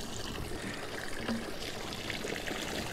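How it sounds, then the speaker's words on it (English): Water from a micro hydro pipe pours into a 5-gallon bucket, a soft, continuous splashing trickle with a few brief tonal blips, fairly quiet and steady throughout. "Here comes the water."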